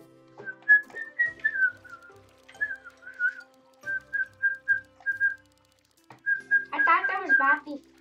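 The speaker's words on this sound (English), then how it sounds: "Whistling." A person whistles a series of short tuneful phrases with clear pauses between them, ending in a louder, warbling burst, heard up close against a quiet background during a casual fishing game session.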